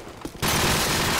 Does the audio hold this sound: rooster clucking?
no